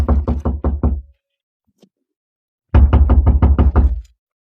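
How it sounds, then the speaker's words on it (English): Knuckles rap on a hotel room door in two loud, close runs of about six even knocks, separated by a brief pause, in an old radio drama with no talk over them. "Ah, go on, knock."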